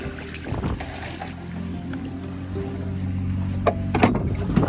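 Water pumped out of a weedy pond at a fish hatchery outdoors, a continuous low rumbling motor hum with gushing and trickling water, steady and fairly close.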